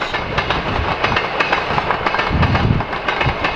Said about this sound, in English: That is the spirit of the Outback, arriving in Longreach.